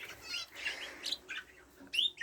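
Pet canaries chirp in close succession, a string of bright, quick tweets and short trills at moderate volume with brief pauses between bursts, the last ones louder.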